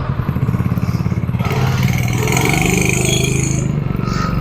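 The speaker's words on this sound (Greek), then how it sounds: "Είναι η πρώτη μου βόλτα με το μηχανάκι." A small motorcycle ridden at night in the rain, its engine droning steadily and close under a constant wash of wind and rain noise throughout.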